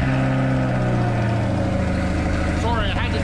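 Corvette C8 engine running as the car rolls out of a garage, a steady low rumble with a faint rising whine near the end, close by and continuous.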